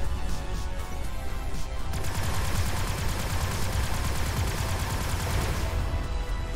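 Enemy gunfire in Everspace 2 hits the player's spacecraft in rapid rattling bursts. It keeps up a continuous loud barrage, densest in the second half.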